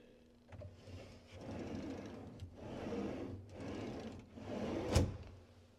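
Salice Progressa drawer slides pulled open and pushed shut several times, each run a soft gritty rolling rumble ending in a light knock, with one sharper thump near the end.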